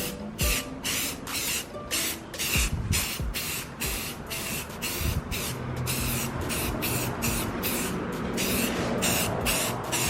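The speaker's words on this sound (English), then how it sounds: "I'm gonna go ahead and spray some primer on it." Repeated short bursts of hissing primer spray from an aerosol can onto widebody car fender flares, close and fairly steady, with brief pauses between passes.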